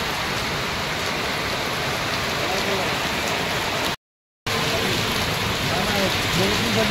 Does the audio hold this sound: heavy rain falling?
yes